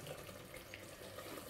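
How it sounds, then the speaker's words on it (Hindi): Water pours steadily into mutton gravy in a pan, a short continuous splashing stream with no voices. "थोड़ा सा पानी ऐड करूँगी"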